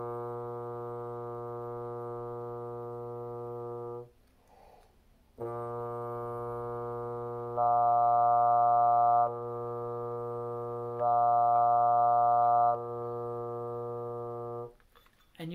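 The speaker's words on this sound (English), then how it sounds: "I'm going to completely cover the Harmon and then lift up one finger." A brass instrument played through a Harmon mute gives a steady, buzzy sustained tone, fully covered at first. Two brighter swells follow as a finger is lifted to let more sound out, with a brief breathy gap between phrases.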